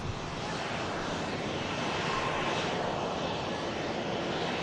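A Ryanair airliner touching down at Manchester Airport produces a loud, steady broadband engine roar that holds constant throughout, with no voices.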